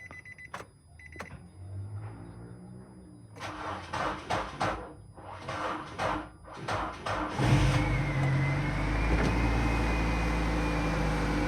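A Nissan Grand Livina with a weak battery cranks in several sluggish, uneven bursts, with a few clicks first, before the engine catches and settles into a steady, loud idle close by.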